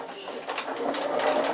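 A sewing machine runs a short straight stitch across the corner of a zip pouch made from a fat quarter, with a fast steady whirring needle that builds slightly in loudness, close and alone.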